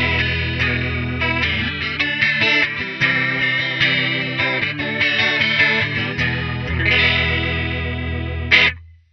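Walrus Audio Julia analog chorus pedal pushed to an extreme setting with extra lag and depth, a guitar playing chords and notes through a deep, warbling chorus shimmer, loud and close, ending abruptly.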